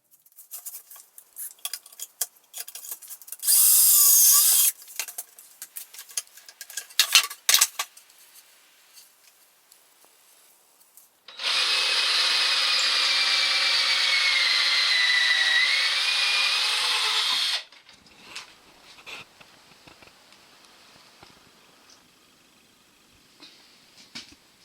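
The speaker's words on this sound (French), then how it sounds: "la première étape va donc être de percer un trou aux deux extrémités des deux morceaux de bois" A power drill bores holes into pieces of pallet wood, one short whirring burst followed by a longer steady run of several seconds, with scattered clicks and knocks of handling in between.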